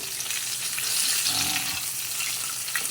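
Tilapia fish frying in hot oil gives a steady, loud crackling sizzle that holds for the whole stretch, alone with no talk over it.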